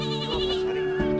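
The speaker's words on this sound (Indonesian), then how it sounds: "Itu ada kambing kecil-kecil tuh." Small young goats bleat close by in wavering, overlapping cries during a stay at a rural family retreat, with no talking over them.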